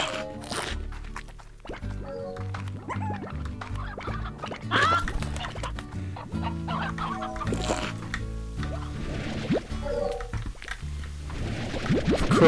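A rooster in a slime video game clucks in repeated short bursts over tonal game music and effects, the calls recurring at an uneven rhythm and staying close and clear.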